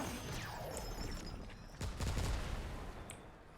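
Explosions from a large minion in the video game Remnant 2 crackle in a rapid burst of blasts, with a heavier booming hit midway and scattered bright impacts trailing off afterward.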